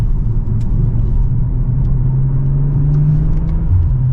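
A 2024 BMW M340i sport sedan rumbles through a sharp turn, heard from inside the cabin as a steady low engine and road drone with a rising tone as it pulls through the corner.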